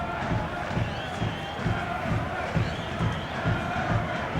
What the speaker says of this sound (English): There's a sizable crowd in here